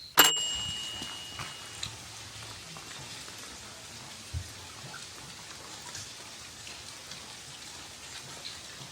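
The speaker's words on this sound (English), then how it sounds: "So it's been raining overnight," Steady rain patters softly on an off-grid cabin under construction, with an occasional louder drop or tap standing out against the even hiss.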